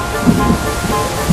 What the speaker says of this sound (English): That night, the storm raged across the island. The rain poured down and the wind blew very hard.